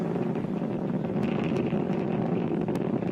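The first-stage engines of a SpaceX rocket roar during launch ascent as a steady, dense, even rumble, sounding distant and muffled with wind-like noise and no voices.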